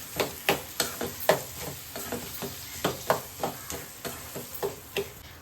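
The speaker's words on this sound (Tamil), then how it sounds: "இப்போ தக்காளி நல்லா வதங்கணும்" Tomatoes and onions being sautéed in a pan for mutton bone soup, with repeated short stirring scrapes and light sizzling in a steady rhythm, fairly quiet and close, no talk.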